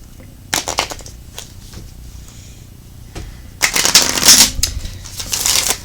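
Moonology oracle cards being shuffled up close, with several bursts of crisp riffling and flapping separated by quieter handling pauses.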